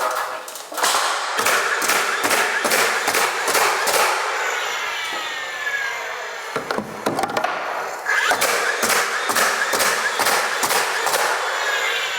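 A pneumatic nail gun fires repeatedly up into the framing lumber of a coffered ceiling, a rapid series of sharp close thuds in bursts with a short pause midway.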